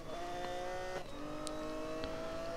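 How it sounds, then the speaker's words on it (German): A Lamborghini Aventador drives in the racing game Need for Speed: Most Wanted, with a steady engine drone at moderate level and a few brief shifts in pitch. "Lamborghini Aventador am Start."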